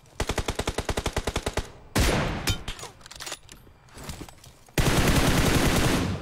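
Video game gunfire: a fast, evenly spaced automatic burst of about a dozen shots, then scattered heavier shots and a final sustained loud burst, with no talking.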